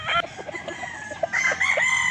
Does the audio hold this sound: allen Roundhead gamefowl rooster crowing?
yes